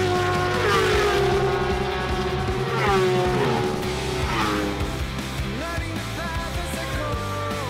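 Several endurance race cars at Donington scream past with rising and falling engine notes and gear changes, loud and continuous, with a commentator talking over the noise.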